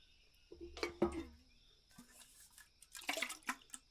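Water splashes and trickles as it is poured into a container, brief wet bursts with drips and clinks, close and soft, in a quiet fantasy healing roleplay setting.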